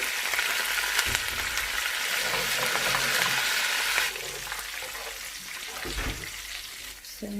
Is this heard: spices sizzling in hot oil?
yes